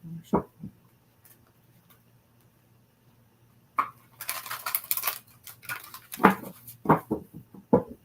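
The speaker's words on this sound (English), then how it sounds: "one more shuffle." Tarot cards shuffled by hand, a run of dense papery riffling and rustling bursts after a quiet pause, near and moderately loud, with brief speech before and after.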